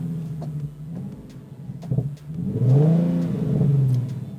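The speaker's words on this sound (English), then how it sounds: "I really like to give it a little bit of gas in neutral to just rev the engine" A manual-transmission car engine in neutral is given light throttle, idling low, then swelling into a rising rev around the middle before easing back, close and fairly loud with no talking.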